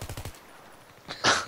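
Assault rifle fire in Battlefield 3: a quick burst of several rapid shots, then a brief pause and a louder, sharper single report, all close and punchy with no voices.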